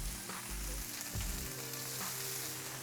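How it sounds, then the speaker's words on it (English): Food sizzles and crackles steadily in a hot pan, a constant frying hiss with no talking, heard close up at low volume. "you can see that it's nice and hot and hear the sizzle when you put it on"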